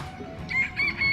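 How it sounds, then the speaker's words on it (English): A rooster crows several times, each call a bright, wavering cry, over low rumbling background noise at a moderate distance, heard from a kayak on water in central Florida. "Dang, roosters are going to drive me nuts."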